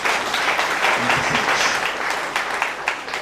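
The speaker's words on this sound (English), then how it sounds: "Let's clap for Jesus" A church congregation claps loudly and continuously for Jesus, close and sustained for a few seconds, with the rhythm fluctuating slightly and no clear speech.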